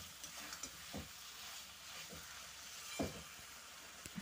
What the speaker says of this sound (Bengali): তো ভালো করে একটু কষিয়ে নেব, মশলা থেকে কাঁচা গন্ধ যাওয়া পর্যন্ত।